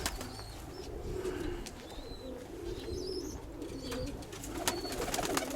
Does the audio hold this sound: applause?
no